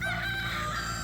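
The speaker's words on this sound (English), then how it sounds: "We got chickens" A rooster crows once on a homestead with many chickens. The crow is a sustained, strained call heard at a moderate distance without talk.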